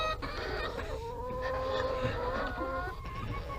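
Chickens cluck and murmur close by in a backyard flock, a steady stream of soft, overlapping calls with a few longer tonal notes, fairly quiet overall.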